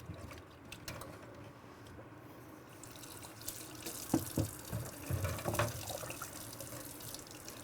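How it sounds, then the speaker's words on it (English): Bowls being rinsed under a running tap in a sterilization room: a steady, moderately faint stream of water with splashes and clatter as the bowls are moved, no talking. "And then rinsed."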